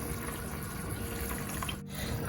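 Water poured into a cooking pot of rice for chicken pulao, a steady, close rushing and splashing stream with no talk over it.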